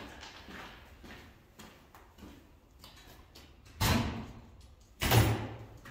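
A door on an old Ford Bronco is opened, heard as two loud, close thumps with a rattle following each, over a faint background and no talking.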